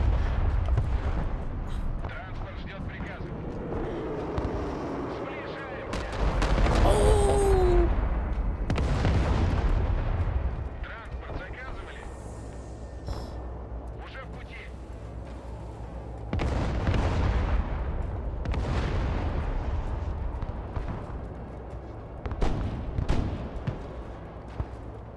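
Artillery fire and explosions in the war game Broken Arrow: repeated deep booms and rumbling blasts swelling and fading over a steady battle din, with someone talking at times between the impacts.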